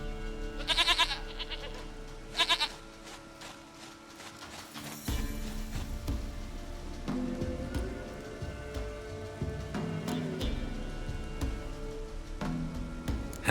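A goat in The Witcher 3, in the Velen region, bleats twice in short quavering calls near the start, then a steady ambient bed of game sounds with rain-like patter continues.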